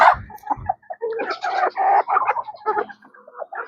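A native bantam chicken clucks close by in a series of short, choppy calls. A few brief sounds open the sequence and no speech is heard.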